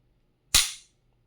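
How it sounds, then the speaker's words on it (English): A Beretta 92SB surplus pistol gives a single sharp, close mechanical snap as its single-action trigger releases the hammer, followed by a brief fading ring, with quiet before and after. "maybe it's just that the single action, at least the way that it sounds, is more substantial on the Beretta"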